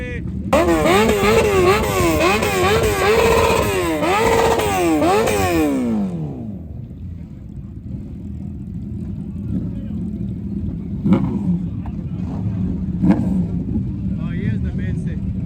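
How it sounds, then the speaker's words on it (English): Many motorcycles rev their engines at a crowded bike gathering, loud overlapping rising and falling revs for several seconds before settling into a lower steady rumble with occasional sharp blips; people talk in the background. "Revs everywhere."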